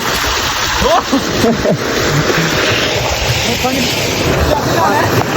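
Water splashing and spraying from a tubewell outdoors, a steady broadband wash of splatter with people talking over it throughout.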